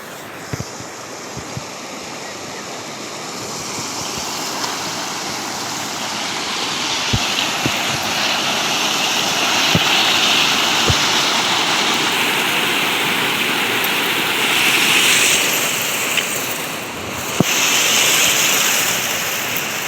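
Released river water rushes steadily after heavy rain in Rajkot, a broad continuous roar with a few faint knocks, no one speaking.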